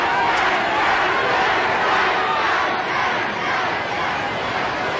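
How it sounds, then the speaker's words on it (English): A football stadium crowd in the game A Shot At Glory chants loudly as one continuous roaring wash of voices, steady and sustained without pauses. "The crowd knows American, listen to them."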